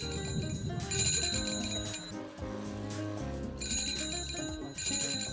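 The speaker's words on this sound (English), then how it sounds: "so many locals pass through here that the bicycle bells never stop ringing." Bright, repeated bicycle bells on a busy Beijing shopping street ring in overlapping bursts over a dense, tonal street clamour, loud and near for the whole stretch.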